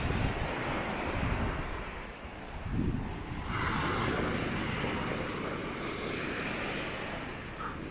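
Heavy surf on a beach rolls and crashes in a continuous roar, loud and close, with gusting amihan-season wind buffeting the microphone throughout.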